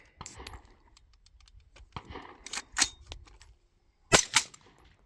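Rifle shots from a Bear Creek Arsenal rifle at an outdoor range, a few sharp, close cracks spaced irregularly, with two or three in quick succession near the end and quiet gaps between.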